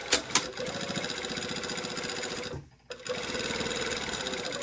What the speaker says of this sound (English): we are up here sewing right in the crease of that hem that I've already pressed